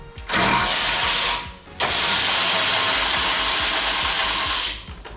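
A ratchet works loose the bolts holding the crash bar on a Fiat 500 Abarth, clicking fast and steadily. It comes in two long, loud bursts with a short pause between them, close up and with no talk.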